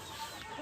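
Free-range village chickens clucking in a simple fenced backyard coop, a short, faint burst of soft fowl calls with no voices.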